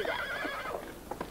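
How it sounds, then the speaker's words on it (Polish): Horse whinnying in a 1989 action film, a drawn-out neigh with a wavering pitch that fades, followed by a couple of short snorts near the end, heard alone and fairly close. "Gdzie ten koń? Trzeba go złapać."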